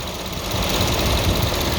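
A 2017 Mercedes GLE 63 with 65,000 km and fresh oil runs after a restart, its engine giving a steady, loud, rumbling drone with no talk over it.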